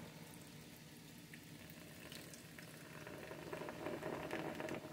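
Pepsi poured into a glass fizzes and bubbles steadily, a continuous effervescent hiss that grows louder and denser toward the end, heard alone without talking.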